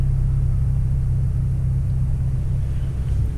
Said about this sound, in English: The 4-cylinder does sound good for a 4-cylinder